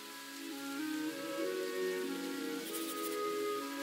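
Steady rain falls across a stable yard in the Pendragon video game, a soft continuous patter with tonal game music layered over it and no voices.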